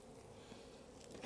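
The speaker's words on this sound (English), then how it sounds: "Check out this colony of bees right here." A honeybee colony, strong enough to be moved by truck for pollination, hums as a steady, close, low buzzing drone that runs evenly throughout with no talk over it.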